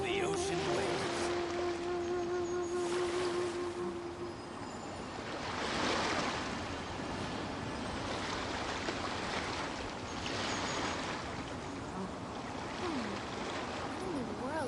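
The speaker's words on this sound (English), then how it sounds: "The sound of the ocean waves." Ocean waves in Genshin Impact wash in a continuous soft surf rush that swells and recedes several times, with a faint voice early on.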